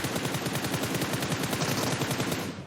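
Sustained automatic gunfire in the PUBG Mobile battle-royale shooter, a dense rapid string of shots with steady rhythm, loud and close, carrying on for nearly three seconds with no speech.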